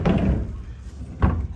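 Soft-close cabinet doors in a house in Sun City shut twice, giving two dull, muffled thumps about a second apart that are fairly loud and close, with no talking.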